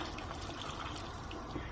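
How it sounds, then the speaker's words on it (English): Water poured into a pot of Thai beef yellow curry as it cooks, a steady close pouring and trickling wash of liquid with no talk. "I'm going to add a bit of water"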